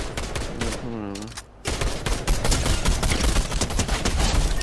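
Rapid bursts of automatic gunfire in a shooter video game, loud and dense through most of the stretch with a brief lull partway, while players talk over it.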